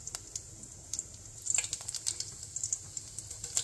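Cumin seeds crackle and sizzle in hot ghee for a dal tempering, with a steady close-up patter of small pops and hisses that grows busier midway, no voices.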